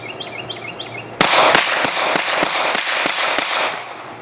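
Hi-Point 9mm carbine firing a string of about nine sharp, loud shots at a steady, fairly quick pace outdoors, each crack close and punchy with short echoes, after faint chirping.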